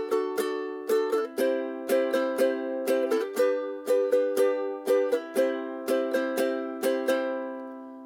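Ukulele strummed close in a down, down, up, down, down, up pattern, bright chord strokes cycling evenly and moderately loud, no voices over the playing.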